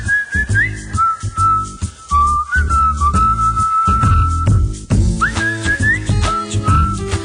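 Whistled jingle in a Hindi accounting software advertisement, a melodic human whistle carrying a tune over backing music, loud and close throughout.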